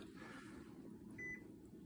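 A microwave oven heating an egg in a plastic box gives a faint, steady hum, with one short electronic beep partway through, in a quiet kitchen.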